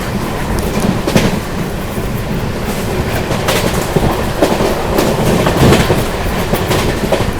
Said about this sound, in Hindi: हमारी ट्रेन इस समय खुर्जा जंक्शन को स्किप करने जा रही है 110 की रफ्तार पे थर्ड लाइन से